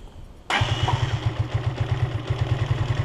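A K Light 202 motorcycle with a cold engine starts after a quiet lead-in, then settles into a steady, loud, close idle with a regular low chugging pulse.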